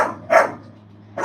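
A Doberman barks twice, close and loud, with a pause of nearly a second between the barks and low background hum beneath.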